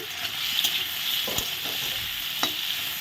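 Tomato pieces frying in ghee with salt, a steady bright sizzle with a few clinking stirs of a spoon against the pan.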